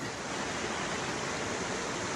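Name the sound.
flowing water of Bertha Creek, Alaska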